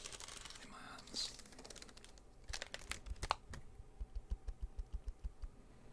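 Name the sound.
ASMR typing on a computer keyboard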